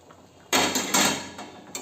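A lid comes off a pot of simmering cholar dal with a sudden metallic clatter, followed by a broad hiss and a few lighter knocks.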